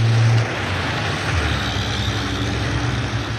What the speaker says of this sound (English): Coaches thundering.